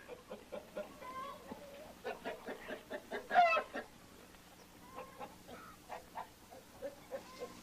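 Chickens clucking close by in a farmyard, a run of short irregular clucks with one louder squawking burst midway, then scattered softer clucks.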